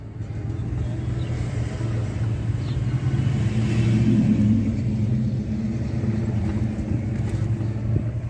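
A car drives along a scenic country road, a steady low engine rumble and road noise heard from inside the cabin, constant and moderately loud throughout.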